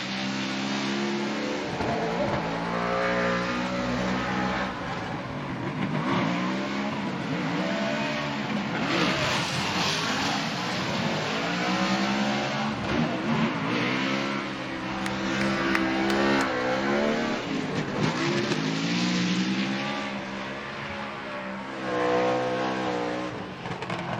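A loud Ford Mustang drift car engine screams and revs continuously with rising and falling pitch, tires squealing at moments, over a steady roar for the whole stretch, at a Formula Drift competition at Road Atlanta.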